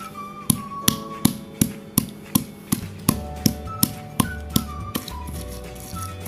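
Ingredients for pecak sauce for tilapia being smashed, producing a steady run of about sixteen sharp, close thuds at an even, quick rhythm, with no talk.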